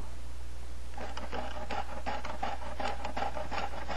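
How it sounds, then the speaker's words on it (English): A stone age wooden bow is scraped down by hand, giving a run of short, close rasping strokes in an irregular rhythm over a steady low hum. "scraping the high spots down, making it flat and regular"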